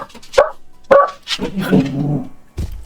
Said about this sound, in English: This is just barking at somebody leaving the house.